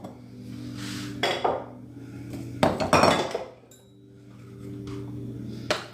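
Dishes, pots and pans being cleaned up after cooking beef stew, with sharp clinks and clattering bursts of metal and glass between quieter stretches of running water, close by and without talk.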